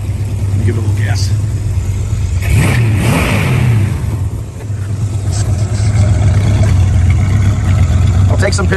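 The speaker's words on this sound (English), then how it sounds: "Let me give it a little gas." A muscle car engine revs up sharply in a couple of quick bursts over a steady idling rumble, loud and close.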